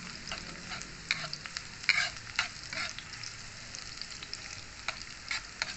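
Bombay onions sautéing in a pan, with a soft sizzle under repeated scraping and stirring strokes from a spatula. The sound is close and fairly quiet, with no talking.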